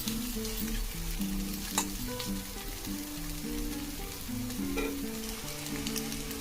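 Spicy masala egg bhurji with coriander leaves is stirred in a frying pan, a continuous crackling sizzle with spatula scrapes and a brief tonal hum underneath, close and without speech.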